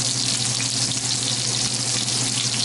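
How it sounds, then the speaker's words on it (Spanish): Onions browning in rendered bacon fat in a pan while cooking chicken coq au vin, giving a steady, close, loud sizzle and crackle that fills the whole stretch without pause or talk. "En la misma grasita del tocino, ahí doramos las cebollitas."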